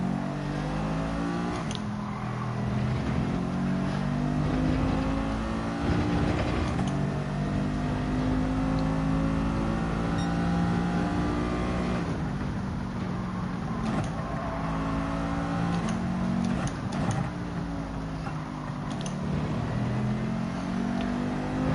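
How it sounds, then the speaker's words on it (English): Mercedes Gr.4 race car engine in Gran Turismo 7 during a Nürburgring GP endurance race, revving hard and steadily with pitch sweeping up and down through gear changes, loud and continuous without talk. "what I'm doing here is just revving the car out, using some more fuel"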